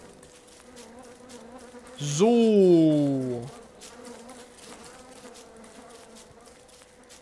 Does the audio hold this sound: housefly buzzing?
yes